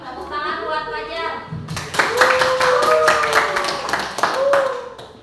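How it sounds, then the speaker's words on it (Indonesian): Classroom applause rings out for a student named Fajar in a mathematics class, a quieter voice at first and then a burst of dense clapping that runs for several seconds, with speech mixed in. "Ya, tepuk tangan buat Fajar."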